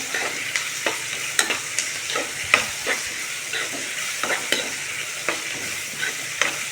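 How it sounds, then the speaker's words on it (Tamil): Tomatoes fry with partly cooked onions in a pan for a meal maker fry, giving a close, steady sizzle broken by regular scraping stir strokes, with no voices. "டொமேட்டோ நல்லா ஃப்ரை ஆகட்டும்"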